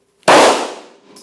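A single loud, close handgun shot bursts out sharply and its echo decays over about a second, fired while the shooter manages recoil.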